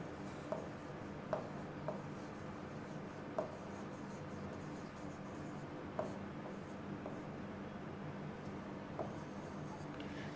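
Chalk or marker strokes on a board arrive in short bursts during an English lesson, some sharp taps between them, fairly faint against a low room hum.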